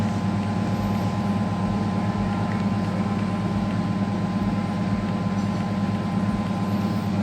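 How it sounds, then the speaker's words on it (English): A Videocon washing machine running on spin mode with a faulty drum that will not rotate gives off a loud, steady mechanical hum, with low thumps repeating about every half second. "so as you can see, it's on spin mode"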